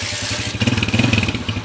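A Honda TMX motorcycle engine with a 175cc conversion idles briefly, then blips through a short run of quick, pulsing revs lasting about a second before settling back. It sounds close-up and fairly loud, with no talk.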